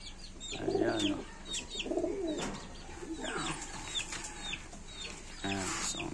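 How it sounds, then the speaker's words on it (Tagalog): Red homer pigeons coo in low, throaty bursts from a loft, several close calls rising and falling over a busy background of chirping birds, with no talk. "Ito naman ang ating mga red homer."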